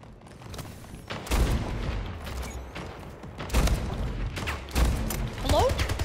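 Sniper rifle shots in the video game Splitgate, several sharp loud blasts around 1.3, 3.5 and 4.8 seconds, among other scattered gunfire and game effects.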